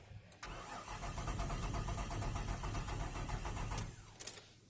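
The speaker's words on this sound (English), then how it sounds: "And cranking it." A 2000 Nissan Quest engine cranks without catching, the starter churning in a steady, rapid rhythm for about four seconds before cutting off, close and fairly loud.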